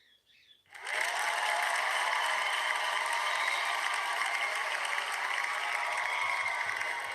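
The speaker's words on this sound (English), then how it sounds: "Cheer for Allie." A crowd cheering and applause effect plays on a livestream, kicking in suddenly and continuing as a loud, even roar of clapping for about six seconds, with no voices over it.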